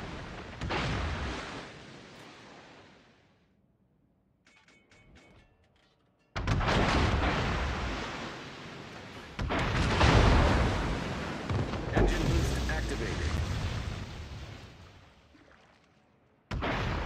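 Heavy booming blasts of torpedoes striking a warship in World of Warships, with a loud explosion early, then a quiet gap, then a long rumbling run of impacts and a final burst at the end.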